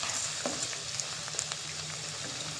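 Okra sizzles softly in a pan, a steady quiet frying hiss with a few faint stirring clinks.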